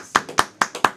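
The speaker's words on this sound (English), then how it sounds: "How about a round of applause?" Close, sharp hand clapping as a round of applause at a mad scientist tea party in Asheville, NC, five distinct claps in a quick rhythm, loud and alone.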